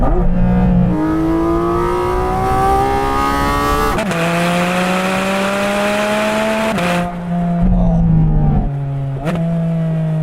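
A Porsche GT4 RS engine with PDK gearbox revs hard and loud through repeated rising sweeps, pitch climbing then dropping with each gear change, close and unbroken.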